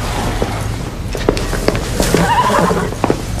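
A prized thoroughbred horse whinnies loudly and close by in a stable setting, the neigh rising and falling over a steady background with a few hoof thumps and clatters.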